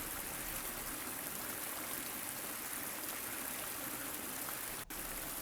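Water of the Lybid river runs through a concrete channel in Kyiv, a steady, even rush of flowing water heard close by with no voices, briefly interrupted by a tiny click near the end.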